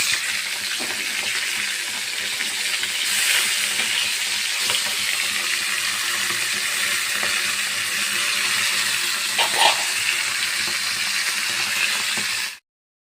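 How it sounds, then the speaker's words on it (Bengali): Fish frying in a pan in a home kitchen, a steady broadband sizzle and crackle that continues throughout, with a few soft clinks, heard close and alone before cutting off abruptly. "চলো মাছ ভাজতে বসিয়ে দিয়েছি দেখো"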